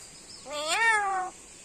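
A black-capped lory parrot imitating a cat's meow, one clear drawn-out mew with a rising then falling pitch, close and fairly loud against a quiet background.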